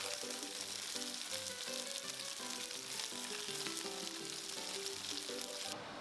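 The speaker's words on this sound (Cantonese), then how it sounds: "雞翼煎好咗就放埋一邊備用" Chicken wings fry in a nonstick pan for braised wings with red fermented bean curd, giving a steady, dense sizzle that holds at an even level throughout; no one speaks.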